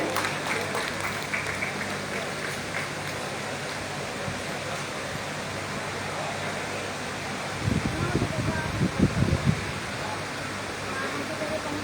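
An indoor audience at a poetry anthology launch and award ceremony claps to welcome the chairman. A steady wash of applause rises into a louder, denser burst near the end. Voices may murmur underneath.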